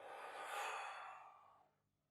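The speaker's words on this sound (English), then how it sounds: "Take a deep breath in, and we'll breathe out to the right." One long, soft breath out during a yoga session, a breathy rush that swells and then fades away to quiet.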